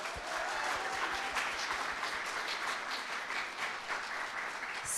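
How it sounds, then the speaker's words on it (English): An audience at a Taiwanese women's celebration stage event applauds steadily after a performance, a dense, sustained wash of clapping from a crowd. "another big round of applause"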